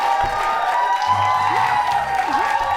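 Studio audience at a Monday talk show applauding and cheering, a steady broad wash of clapping and crowd noise with a few whoops, while voices speak briefly over it.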